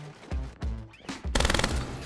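Gunfire rings out in Rainbow Six Siege: several loud, sharp single shots with echoing tails, then a rapid automatic burst, all close and dominant.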